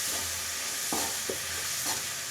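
Upma (uppittu) ingredients, including chopped vegetables and salt, fry in oil in a pan under a soft, steady sizzle, with three quick spoon stirs scraping through at close range.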